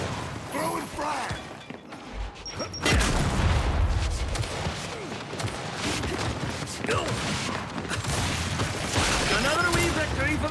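Frag grenade blast and bursts of gunfire in the Gears of War video game, a heavy boom followed by dense, continuous combat noise with clattering mechanical sounds, while players talk over the action.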